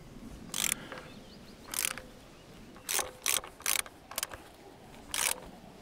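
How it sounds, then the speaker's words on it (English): Socket head screws being tightened on the blade of a KX Tree Shear, heard as a series of short ratcheting wrench bursts, six or seven clicks spaced irregularly, fairly close and alone with no talk. "tighten these socket head screws to get some space between the blade and the base plate"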